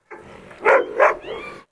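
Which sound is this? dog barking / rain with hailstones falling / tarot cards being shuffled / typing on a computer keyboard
dog barking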